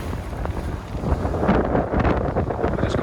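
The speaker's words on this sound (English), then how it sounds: "it's a bit breezy today on the loch" Wind from a breezy loch gusts through the open window of a 2003 Viki 32 Fly motor cruiser, a loud, continuous rushing roar buffeting the microphone, with no talking.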